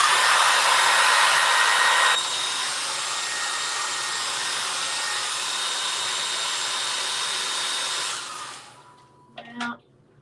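A hair dryer blows loud and steady on acrylic paint in an art journal, dropping to a lower setting after a couple of seconds, then switching off near the end followed by a few brief handling knocks.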